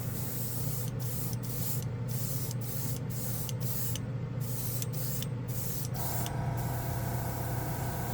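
Born Paint chrome paint is sprayed from an aerosol can in a series of short hissing bursts, roughly eight quick sprays spaced about half a second to a second apart, close to the microphone, followed by a steadier tone.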